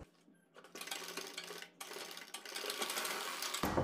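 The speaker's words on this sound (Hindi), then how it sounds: "यहाँ से हम लगभग डेढ़ इंच पीछे से सिलाई स्टार्ट करेंगे और यहाँ तक सिलाई करेंगे" A sewing machine runs a stitching pass along the pleats of a fabric origami sleeve, a close, quiet, fast mechanical whirr that starts after a brief pause, stops for a moment, then continues steadily.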